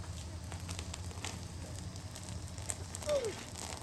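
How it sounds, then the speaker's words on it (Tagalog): Steady, dense hiss of heavy rain pattering on surfaces, continuous and fairly quiet, with a brief faint chirp near the end. "Oh, lakas ng ulan."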